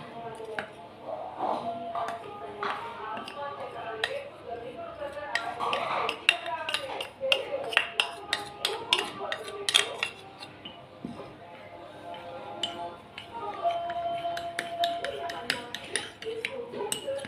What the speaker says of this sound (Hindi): कस्टर्ड को दूध में अच्छी तरह से मिक्स करेंगे ताकि कोई भी लम्स बाकी ना रहे।